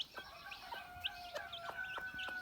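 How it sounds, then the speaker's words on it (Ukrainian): A Minorca broody hen clucks softly in short repeated notes while her six week-old chicks peep in high, quick chirps close by. "Наша мама квачка мінорка, має 6 курчат."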